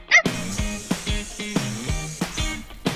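PuppyGo AI smart robot toy dog giving a rapid run of electronic barks, about eight loud, close yaps in an even rhythm with no talking.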